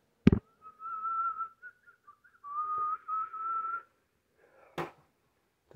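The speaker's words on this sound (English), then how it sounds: "Don't go watch me whistle." Person whistling outdoors, a clear solo melody of sustained and gliding notes with short pauses, framed by a couple of sharp knocks at start and near the end.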